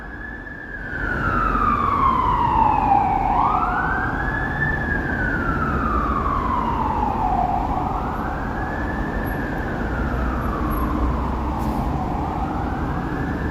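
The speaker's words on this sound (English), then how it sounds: "I know the sirens have to be loud enough for everyone to hear them" A fire truck siren sweeps up and down in long wails as it passes through downtown Toronto, loud and echoing off buildings, with a steady traffic rumble underneath.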